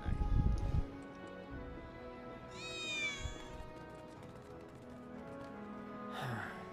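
A cat meows in Final Fantasy 7 Remake, a short rising-falling cry rising about midway over a steady game ambience of low hum and faint footsteps, with a second soft sound near the end.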